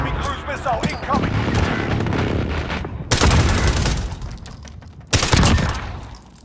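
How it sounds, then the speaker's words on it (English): Gunfire and a cruise missile strike in the Call of Duty: Modern Warfare video game: a rattle of shots builds into heavy booming blasts, with two sudden loud explosive bursts later on. "Enemy cruise missile incoming!"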